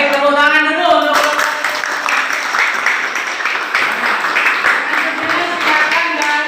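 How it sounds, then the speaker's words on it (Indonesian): Classroom students applauding for a group's answer, a dense burst of clapping from many hands that holds steady for several seconds after a teacher's voice. "tepuk tangan dulu untuk"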